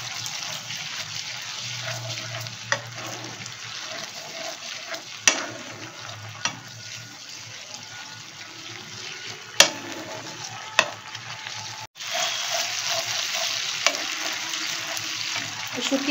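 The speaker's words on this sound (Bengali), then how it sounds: "এবার এটাকে একটু জাল দিয়ে নিই।" Ema datshi, a Bhutanese chili and cheese dish, cooking in a pan on a gas stove, giving a continuous close sizzle and bubbling hiss with a few sharp clicks of a utensil against the pan.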